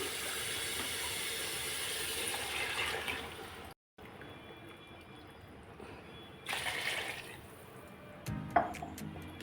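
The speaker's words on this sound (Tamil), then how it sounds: "சுடு தண்ணி தான் ஊற்றுறேன்." Hot water pours into a cooking pot of country chicken biryani with a hissing splash, stops for a moment, resumes, and ends with a light metallic knock.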